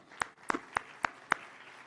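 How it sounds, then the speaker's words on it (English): Five sparse, evenly spaced claps for a conference panel, a lone slow round of applause that stays faint and thin rather than a full crowd. "One more round of applause for this great panel."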